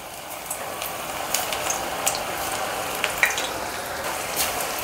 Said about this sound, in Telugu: మీడియం ఫ్లేమ్లోనే పెట్టి ఫ్రై చేసుకోండి